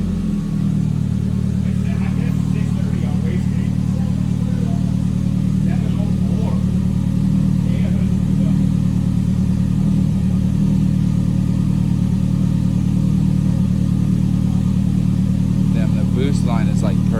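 A turbocharged car engine strains on a dyno at high boost, holding a loud, steady droning roar throughout. Faint higher mechanical whines and chatter come through on top, and no talk is clearly heard.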